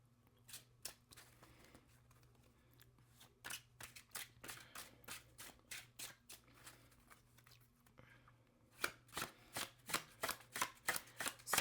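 A Rider-Waite tarot deck being shuffled close up, a series of crisp riffling card bursts at an even rhythm, sparse at first and then quick and regular toward the end, with no talking.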